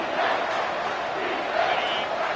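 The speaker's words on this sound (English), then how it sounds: "This crowd knows this defense needs them right now." A stadium crowd at a football game, roaring steadily on a third-and-long defensive play, a broad, sustained wash of cheering with a voice faintly beneath it.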